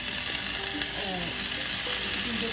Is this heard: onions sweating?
yes